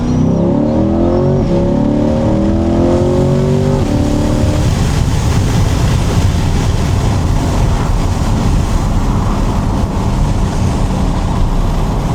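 Chevrolet C8 Corvette Z51 downshifting then accelerating hard, a loud close engine note with rising revs in the first seconds giving way to a steady roar of engine and road noise.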